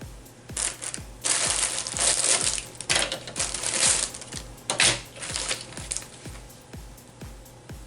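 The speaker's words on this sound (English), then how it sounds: "Here's some scrap cheesecloth. I'll just tear a little piece of that off." A scrap of cheesecloth torn by hand for a junk journal photo frame cluster: scratchy bursts of ripping fabric come in short spurts over a steady ticking rhythm, close and fairly loud, with no talking.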